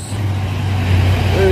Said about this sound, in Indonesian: Truk Hino. Dan belakangnya ada bus.